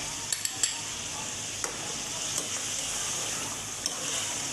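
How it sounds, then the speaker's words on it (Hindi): Achar gosht curry with chicken sizzles in oil in a pan as spiced yogurt is stirred in: a steady, close frying hiss with a few light clinks of a spoon against the pot. "अब इसको अच्छे से दोबारा भुनेंगे 4 से 5 मिनट तक।"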